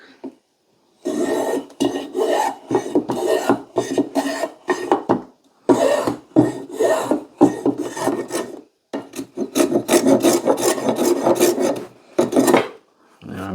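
A hand tool scrapes and rasps across wood end grain held in a mini vise, in close, loud bursts of rough strokes separated by short pauses, with no voices.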